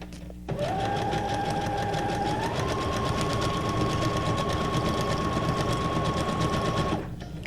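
A sewing machine stitching paper ephemera for a junk journal runs in one continuous, steady motor whir for about six and a half seconds, close and loud, then stops.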